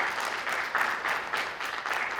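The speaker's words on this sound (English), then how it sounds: "Give them a huge round of applause for all that they've done for you." A crowd at a fire academy graduation ceremony applauds families in the audience, a dense, even wash of clapping with gentle pulses throughout, fairly quiet and without talk.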